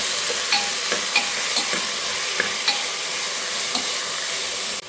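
Vegetable curry with beetroot and carrot is stirred in a pan, a steady sizzling hiss broken by repeated soft scrapes and clinks of the spoon against the pan, with no talking.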